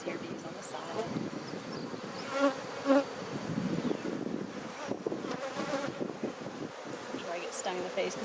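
Honeybees buzz continuously around a hive in a faint outdoor hum, with occasional louder passes near the microphone and some wind noise.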